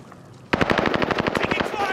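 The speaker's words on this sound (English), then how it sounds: "I'm getting shot at." A rapid automatic burst from a PS5 shooter game starts abruptly and hammers out in an even, fast rhythm, loud and close, with faint talk in the background.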